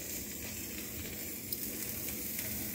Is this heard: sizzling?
yes